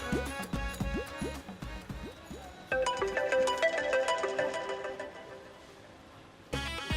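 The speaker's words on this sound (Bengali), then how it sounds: "ঢুকছে কি বলো যে রিং হচ্ছে।" A phone rings with a repeating electronic ringtone melody. It loops through several cycles and switches to a denser chiming tune partway, then pauses briefly before starting again.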